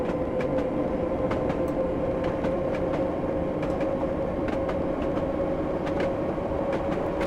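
A London Underground D78 Stock train in a train simulator game runs with a constant rumbling roar and a steady motor hum, with periodic rail clicks ticking over the joints throughout and no talking.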